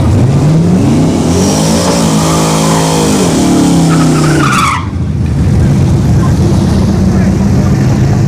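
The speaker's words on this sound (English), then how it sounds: "So the second gen Camaro is now pulling into the lane." A second-generation Chevrolet Camaro drag car idles and rumbles loudly as it pulls into the lane at a dragstrip test-and-tune session, with rising and falling engine tones under steady crowd and track noise.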